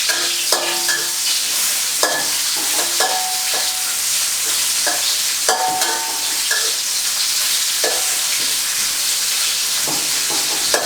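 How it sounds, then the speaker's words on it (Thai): Ginger, garlic and spring onion stir-fried in a little oil in a pan, giving a steady bright sizzle with repeated scraping stirs and clinks throughout, close and loud, with no talking. "หลังจากนั้นเราก็นำขิง กระเทียมแล้วก็ต้นหอมนะครับมาผัด"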